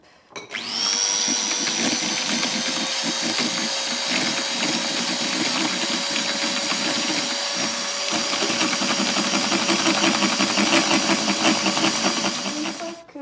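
An electric mixer beats cream with condensed milk for homemade ice cream, a loud, steady high whine that runs for about twelve seconds before cutting off.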